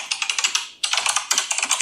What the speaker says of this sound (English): Clearly I forgot to turn down the typing sound effect